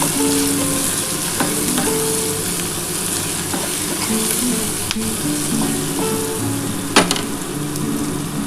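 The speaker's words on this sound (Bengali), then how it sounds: "এবার আমি বেগুনটা দিয়ে দেবো।" Eggplant fries in oil in a pan, a loud, close, continuous sizzle with stirring scrapes and a couple of sharp utensil knocks against the pan, no voices.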